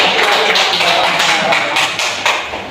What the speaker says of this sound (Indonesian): Yo beri tepuk tangan untuk Marwi.